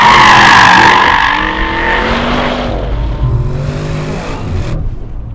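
An Audi RS6 Performance on a race track corners hard, its engine loud and close as tires squeal in rising and falling pitched streaks, the roar easing into a drawn-out skid before cutting off.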